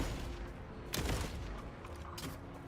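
Shotgun fire in the Borderlands 4 video game: one loud broadband blast near the one-second mark, then a second, weaker shot near the end, over a steady game background with no talking.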